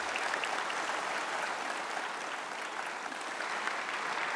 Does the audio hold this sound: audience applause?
yes